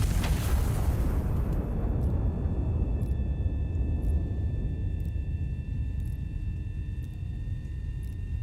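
An armor-piercing shell fires in a video game and detonates with a loud, sustained explosive boom that rolls into a long, steady rumble for several seconds, with faint high tones ringing above.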